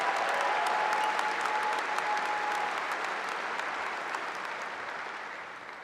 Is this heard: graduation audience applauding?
yes